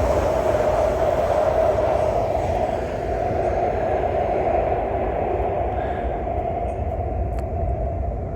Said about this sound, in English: inbound, downtown bound train still coming in.